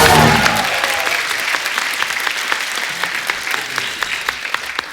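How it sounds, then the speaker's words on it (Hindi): Loud, sustained applause from a television comedy show studio audience, a dense wash of clapping that stays steady throughout with no talk over it. "जोरदार तालियां"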